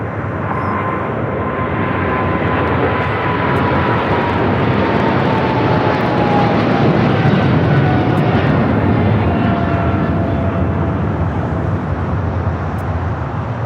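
An airliner taxiing on a taxiway at Los Angeles International Airport, a steady loud engine roar with a faint whine drifting in pitch, continuous and fairly close, no voices.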